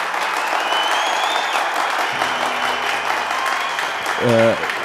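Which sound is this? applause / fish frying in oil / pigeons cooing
applause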